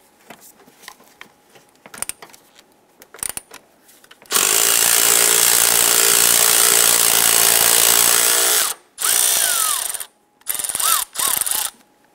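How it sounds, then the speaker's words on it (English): A 10 millimeter socket on a ratchet loosens the nut holding the air box to the strut tower of a 2008-2013 Nissan Rogue, giving a loud, steady run of rapid ratchet clicking that breaks off briefly near the end, after faint handling noises. "Using a 10 millimeter socket, loosen and remove this nut, securing our air box to the strut tower."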